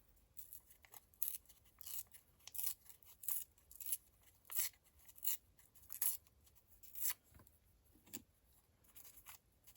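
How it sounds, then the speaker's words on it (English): Paper torn by hand into strips for a scrappy notebook, a quiet series of about a dozen short, crisp rips in steady rhythm, close up with no talking. "Might give it a bit more of a rip."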